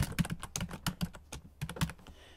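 Fast, close computer keyboard typing as code is entered, with about a dozen crisp key clicks in uneven quick bursts and no talking.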